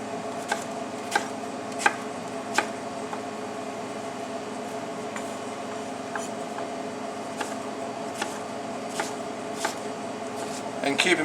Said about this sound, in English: So now I'll just be dicing these up.